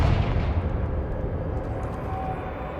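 A Confringo blasting curse in Hogwarts Legacy erupts as a loud, deep, rumbling explosion that stays booming and then slowly decays across a few seconds.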